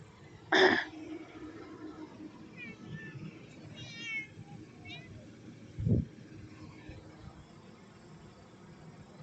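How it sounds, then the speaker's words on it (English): A cat lets out a loud, sharp meow near the start, another cry follows around six seconds, and fainter chirps come in between, all over steady low background noise. "Let the cats fight if they want to"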